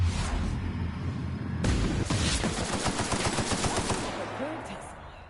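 Video game gunfire in The Outer Worlds, with rapid bursts of close, loud shots fired in quick succession, some overlapping, followed by a trailing-off tail.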